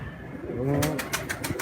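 Pigeons kept on a rooftop coo softly nearby in a low, rounded burble, followed by a few brief sharp rustles or wing flutters.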